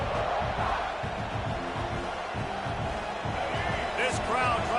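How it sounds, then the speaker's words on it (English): A football stadium crowd roars continuously against the opposing offense at a college game, a dense, loud wall of cheering and yelling with a commentator talking over it. "This crowd trying to make life miserable for this offense."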